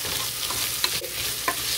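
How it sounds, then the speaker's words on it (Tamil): Onions and curry leaves frying in a masala, giving a steady soft sizzle with a few light scrapes of stirring over a short stretch, close by and with no talk. "இந்த வெங்காயத்தை கருவேப்பிலையும் இதுக்குள்ளே போட்டுக்கலாம்."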